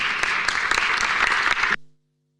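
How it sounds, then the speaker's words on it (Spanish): Applause for the speakers at a public commission hearing on popular participation and territorial equity: a dense burst of clapping from the room that holds steady for under two seconds, then stops abruptly. "Le damos un aplauso a nuestros expositores."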